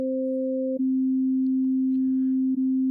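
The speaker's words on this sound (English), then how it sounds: "we're going to have 2 sine waves sounding at the same time" Two pure sine tones from FM synth carriers sound together briefly, then the higher one drops away, leaving a single steady tone humming alone.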